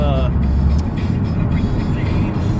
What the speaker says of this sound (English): Is that a FUMA bus behind me?